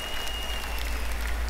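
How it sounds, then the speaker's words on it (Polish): Audience applause at a live event, a dense, steady patter of many hands clapping throughout, fairly loud and even, with a low hum underneath. "Od razu przestali klaskać."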